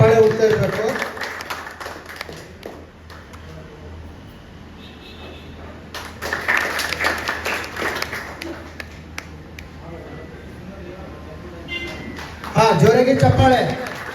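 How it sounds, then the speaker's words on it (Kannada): Sustained audience clapping at a Mahindra tractor delivery ceremony in Devadurga rises and falls in waves. Someone speaks loudly over it at the start and near the end, with the applause carrying on underneath. "ಸರ್, ಹೀಗೆ ಚಪ್ಪಾಳೆ ಹೋಗ್ತಾ ಇರಬೇಕು"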